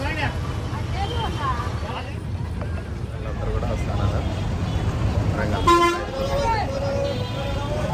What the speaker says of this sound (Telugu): ఇక్కడ ఒక బస్సు వచ్చింది ఆ బస్సు అయితే ఎక్కుతున్నాము